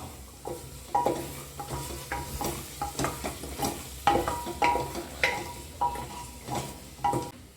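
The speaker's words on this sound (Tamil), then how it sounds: "இதையும் கிண்டுங்க இன்னும் கொஞ்ச நேரம்." Soya chunks, beans and carrots for a vegetable biryani are stirred in a pot. Repeated rhythmic scrapes and metallic clinks of the spoon come over a soft frying sizzle, close and clear, with no talking.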